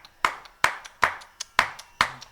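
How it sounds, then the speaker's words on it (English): Sharp hand claps marking the hits of a fast Carnatic rhythm pattern, five loud close claps at a steady even pulse with a fainter tap between some of them, heard alone. "So they started clapping only the hits"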